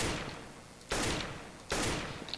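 Two sharp AK rifle shots in CS:GO, loud and close, spaced under a second apart, each with a short decaying tail.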